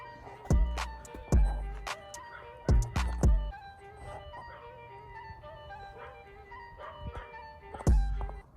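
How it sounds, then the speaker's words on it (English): A dog barks in the background in several sharp bursts spread across the span, some in quick pairs. Between the barks, a faint ringing tone hangs, and the dog sounds somewhat distant. "You can hear the dog barking in the back."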